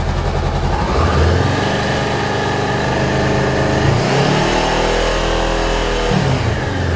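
A motorcycle engine cranks and catches, then settles into a steady, close idle, throbbing low and loud throughout.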